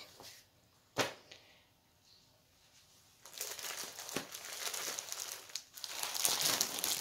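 An ocean-themed plastic dollar-store tablecloth with a dolphin print crinkles and rustles as it is handled and unfolded, a few sharp crackles at first, then continuous loud crinkling.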